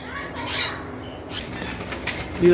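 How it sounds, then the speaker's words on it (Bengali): Flapping wings of an albino breeding pair of pet birds, likely pineapple conures, cockatiels or lovebirds, fluttering in fear inside a farm cage, with brief bursts of wing flutter and a soft coo over a steady background. "ভয়ে দাপড়াদাপড়ি করতেছে"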